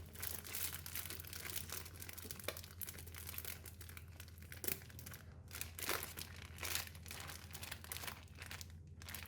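A plastic bag holding pork belly in soy sauce marinade crinkles and rustles steadily up close as it is twisted shut and tied with a rubber band, with sharper crackles throughout.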